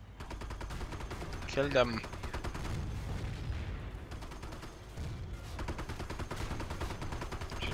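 Battlefield gunfire in the World War II strategy game Company of Heroes at Montebourg, with dense, continuous rattling shots and distant booms, and a voice calling out briefly over the din.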